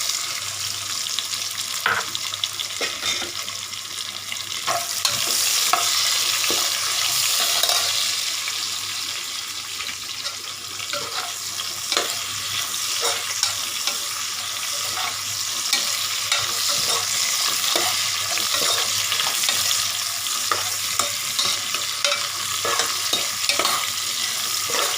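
Chopped onions sizzle and fry in a pan for coconut milk pulao, with a steady bright crackle and repeated scraping stirs of a spoon throughout, close and continuous with no talking.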